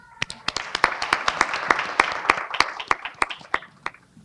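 Audience applause at a youth empowerment gala and awards night, a steady crowd of clapping hands with sharp individual claps standing out, loud and sustained throughout without a break.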